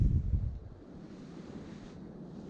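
Strong wind buffets the microphone at Cockroach Bay, a loud low rumble at first that eases into a steadier windy hiss.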